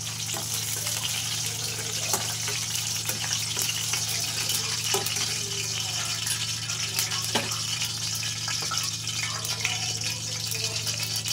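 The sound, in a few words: ridge gourd pieces frying in a pan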